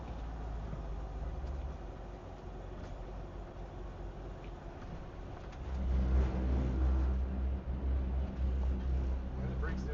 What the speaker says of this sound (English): It's just the pads vibrating.